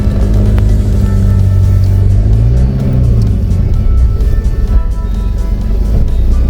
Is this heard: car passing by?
yes